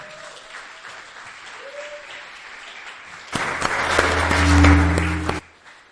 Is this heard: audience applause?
yes